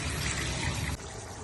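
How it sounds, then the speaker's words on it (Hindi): Water poured into a pan of minced meat with peas, a short gush of liquid at close range that cuts off abruptly, leaving a softer hiss. "अब इनके गलाने के लिए हम पानी डालेंगे।"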